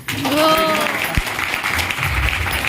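Audience applause for a speaker at a celebration event, a dense sustained clapping crowd heard close, with voices speaking over and through it.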